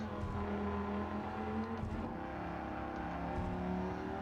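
A Dodge Viper GTS racing around Tokyo Expressway in Gran Turismo 7, its engine droning steadily at high revs with a brief dip and surge as it shifts, held close and constant throughout.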